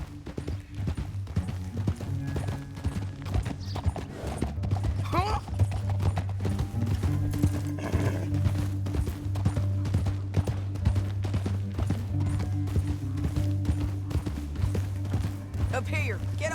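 Continuous clip-clop of galloping horse hooves in Red Dead Redemption 2 over a low droning backdrop, with occasional higher whinny-like sounds mixed in.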